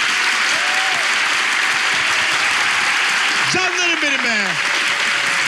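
Steady, dense audience applause fills the studio at the opening of a Turkish relationship-quiz TV show, with a voice calling out over the clapping near the end.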